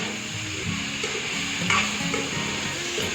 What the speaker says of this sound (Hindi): उसके बाद फ्रेंड कटे हुए टोमेटो ऐड करूँगी, और अब मैं इंडक्शन को एकदम कम कर दूँगी 500 पर